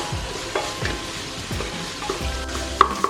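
Chicken pieces frying in a pan for Kerala chicken biryani give a steady, close sizzle, broken by repeated scraping and stirring knocks from turning the meat, with no voices.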